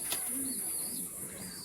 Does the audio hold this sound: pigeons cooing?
yes